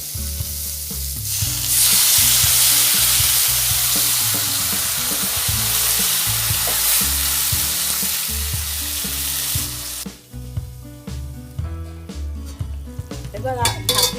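Fish curry with potatoes sizzles and fries loudly in a covered pan, a steady hiss that drops off near the end, leaving quieter crackling and clinking.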